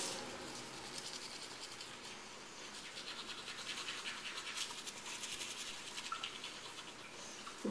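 Steady scratchy bristle scrubbing of teeth being brushed close to the mic, a continuous fine rasping with small rhythmic strokes throughout.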